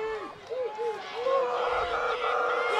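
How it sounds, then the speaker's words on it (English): Cheerleaders chant rhythmic calls over the murmur of a visiting crowd filing into the stands at a high school football playoff game, with voices rising and falling in the open air. "You hear the Lakeridge cheerleaders trying to keep the visiting crowd"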